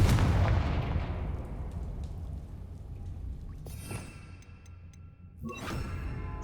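A Confringo fire spell from Hogwarts Legacy bursts in a heavy, booming blast that rolls away over a few seconds. Lighter whooshing effects and sharp crackles follow later.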